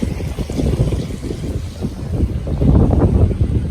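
Steady wind buffeting outdoors in Mongolia, a low rumbling roar that swells and gusts, strongest toward the end, with no one speaking.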